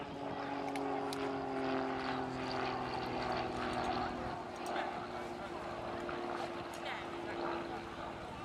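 An RAF Grob Tutor propeller trainer flying a display at an air festival, a steady droning engine hum sustained throughout at moderate distance, with crowd or commentary sounds faintly underneath.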